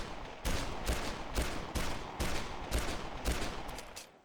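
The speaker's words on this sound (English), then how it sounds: "So next up we got the Deagle, or the heavy pistol." Desert Eagle heavy pistol fired repeatedly in Dead Island Definitive Edition, about eight sharp shots at a steady rhythm roughly half a second apart, alone and fairly quiet.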